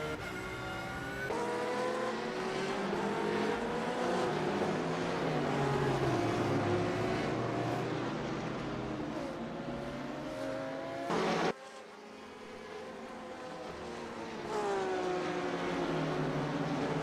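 Porsche GT3 race car heard onboard at Spa-Francorchamps, the engine howling loudly through repeated rising and falling revs as gears change, with a brief abrupt drop before the roar resumes.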